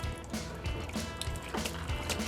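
Pink antifreeze runs and sputters from the hot water faucet of a pop-up camper being winterized, a quiet, uneven gurgle and splash of liquid with small bursts and drips, close by and without talk.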